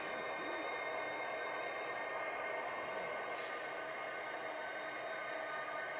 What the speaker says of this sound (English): This is the Stillaguamish River Bridge that the train is going over now.